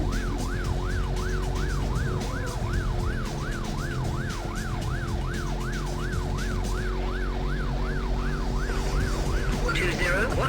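Wailing police pursuit siren from the PlayStation racing game Need for Speed: Road Challenge, a steady rising-and-falling warble repeating loudly over a car engine drone for about seven seconds before fading into other noise.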